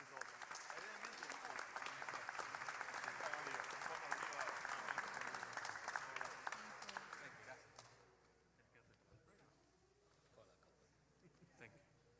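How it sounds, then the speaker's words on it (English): Audience applause at a Jewish holiday gathering, a dense steady patter of many hands lasting several seconds before fading out, leaving a quieter room with faint scattered sounds. "Let's give them again a round of applause."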